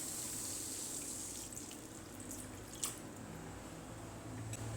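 Water trickles into a cooking pot of taro greens and ilish fish head, a soft steady pouring hiss with a small splash near the middle.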